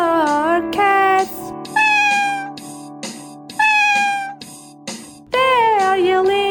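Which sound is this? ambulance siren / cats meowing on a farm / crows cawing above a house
cats meowing on a farm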